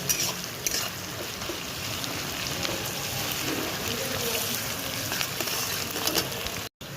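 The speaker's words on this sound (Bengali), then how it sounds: "পেঁয়াজটা একদমই লাল লাল করে ভাজা হয়ে গেছে" Onions fry in hot oil until deep reddish-brown for a mutton pulao, a soft, continuous sizzle and crackle at moderate distance with a few sharper pops, and no talking.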